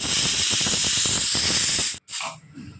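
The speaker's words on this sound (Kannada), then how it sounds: "ವಿಷಲ್ ಆಗ್ತಾಯಿದೆ." A pressure cooker whistles steadily with a loud, continuous hissing steam jet while mutton sambar cooks, then cuts off abruptly and sputters briefly as the pressure drops.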